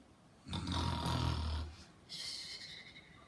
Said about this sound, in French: La princesse commence à ronfler